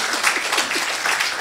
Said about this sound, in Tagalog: Ang lakas ng palakpak sa baba.